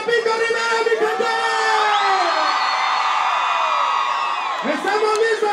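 A concert crowd at a corrido show in the Los Angeles area roars with cheers, whoops and shouts, loud and continuous, with high yells cutting through the sustained noise.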